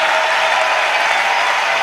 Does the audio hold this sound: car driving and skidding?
no